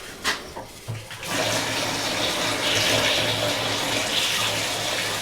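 Hot water gushes from a tap in a cottage under renovation, opening with a few knocks and clunks before a loud, steady, close rush of running water that lasts to the end.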